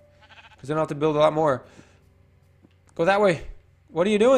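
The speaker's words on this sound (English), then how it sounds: "Sheep, you got to move just a little bit." A sheep in the Minecraft video game bleats in short wavering cries, one long call followed by two more after a pause, loud and close, with someone talking over parts of it.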